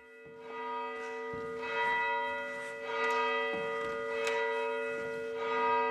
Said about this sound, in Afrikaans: So baie van ons onthou daai kerkklokke in hierdie klein dorpies